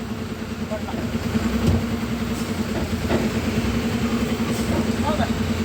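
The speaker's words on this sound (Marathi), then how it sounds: "हे बघा रिवर्स ट्रेलर घेतोय" A vehicle hauling a trailer backs up with its engine chugging in a steady low, pulsing idle, close by, while people talk over it and a few faint knocks sound.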